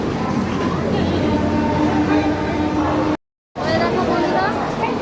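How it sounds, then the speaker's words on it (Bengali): A train passing at Howrah station, a loud steady rumble of rolling wagons filling the scene with station bustle and voices over it, briefly cut to silence partway. "এই যে ট্রেন যাচ্ছে।"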